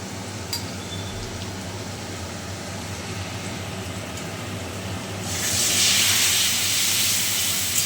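Ginger paste thinned with a little water hits hot oil with coriander powder, breaking into a loud, steady steam hiss partway through after a quieter low hum, the sizzle holding strong to the end with no talking.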